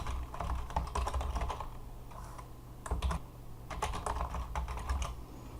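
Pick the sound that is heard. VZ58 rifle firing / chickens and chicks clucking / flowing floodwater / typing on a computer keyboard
typing on a computer keyboard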